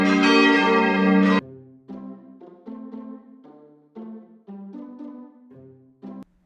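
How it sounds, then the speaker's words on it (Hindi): A deep temple bell rings out once and lingers, followed by a series of softer, shorter metallic tones fading in and out. "मंदिर की घंटी शोक में बज उठी।"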